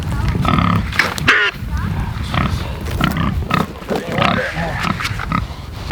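Pigs grunt and snort on a farm while a person calls to herd them along beside a pond, the animal noises close and mixed with the voice throughout.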